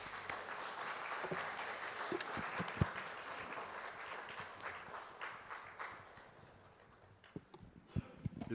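A church congregation at a Sunday worship service applauds to welcome pastor David Phillips, a steady crowd of clapping that swells and holds, then thins out toward the end with a few last scattered claps.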